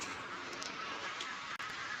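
A village duck quacks in short, nasal bursts close by over a steady outdoor hiss.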